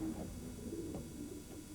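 Pigeons cooing softly on a building in Lancashire, a few low murmuring coos over a steady background hum, fairly faint and without voices.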